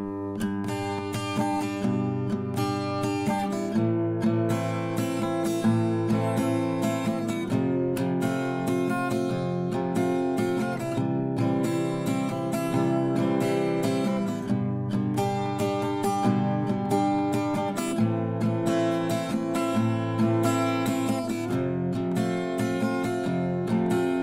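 Acoustic guitar strumming the chord progression of a song at normal tempo in a steady down-down-up-up-down pattern, close and clear, with regular rhythmic strums over about twenty-four seconds and no talking.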